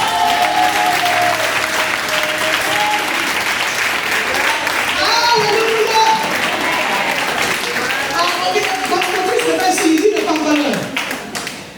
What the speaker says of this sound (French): Est-ce qu'on peut acclamer la parole du Seigneur?